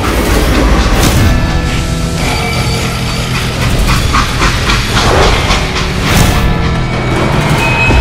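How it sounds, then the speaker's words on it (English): A freight train rolls loud and close in the Western game Call of Juarez: Gunslinger, with clattering wheels, metallic clanks, hissing bursts and rhythmic rattling carrying on continuously. "They hopped a freight train"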